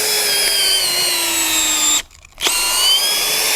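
A power drill bores a hole 40–60 cm deep into soil with a roughly 20 mm bit for a screw-in post base, whining steadily with a falling pitch before a brief stop, then restarting loud and close.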